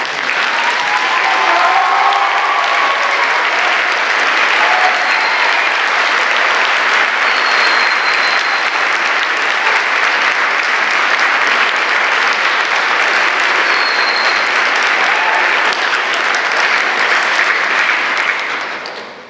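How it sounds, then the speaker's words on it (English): Loud, sustained applause from a large audience honoring a pharmacy class at a white coat ceremony, dense and unbroken for the whole stretch before tapering off at the end. "give a round of applause for our class"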